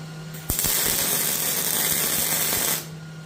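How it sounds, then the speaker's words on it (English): Metal pieces for a branding iron are being cut in one continuous loud burst of roughly two seconds, a harsh grinding hiss that begins abruptly and stops just as sharply, with a steady hum underneath. "Now we need to cut some pieces to reinforce all the outer edges."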